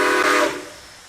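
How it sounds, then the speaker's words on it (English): A steam train whistle sounds one short, loud, breathy blast in the High Iron railroad game, then fades quickly. "I like how this whistle is more responsive as well."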